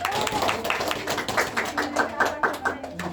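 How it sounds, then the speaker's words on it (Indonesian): Classroom students clap for a presenting group in a math lesson, a brief burst of uneven claps close by with voices mixed in. "Oke, beri tepuk tangan dulu untuk kelompok 1."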